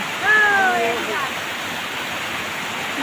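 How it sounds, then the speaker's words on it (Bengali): Constant roaring water from the top of Usri Falls near Dhanbad, with a brief voice rising over it near the start. "এটা হলো ঝর্ণার মাথা।"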